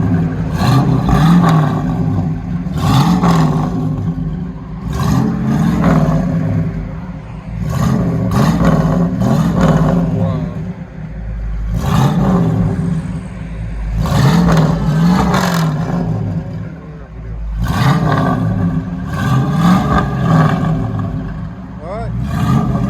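A 1973 Ford Mustang Mach 1 V8 with a true dual Flowmaster Super 10 exhaust backs up, giving a loud, close, rumbling idle that rises in repeated surges of throttle with a deep burble and a voice now and then.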